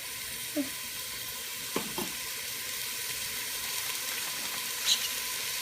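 A beef curry mixture cooks in a pan, a soft, steady hiss of low sizzling with a few brief stirring knocks and a clink, heard alone with no talking.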